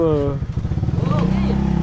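A motorcycle engine idling on standby, a rapid, even putter that settles into a steady low throb, close by and fairly loud, with a voice heard at the start.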